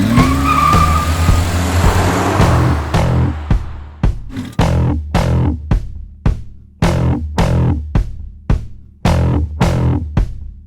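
A 1962 Ranchero race car circling a track in an endurance race at Sonoma, its engine revving close and loud, then dropping into a sharp, regular series of repeated bursts as it shifts or passes, with no talk.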